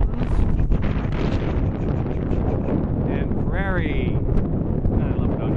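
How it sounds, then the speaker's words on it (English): Strong wind on Rocky Mountain slopes at a wind farm in Alberta, a loud, constant roar buffeting the microphone, with a brief rising whistle-like sweep partway through and a voice faintly present. "Windy as a bugger up here."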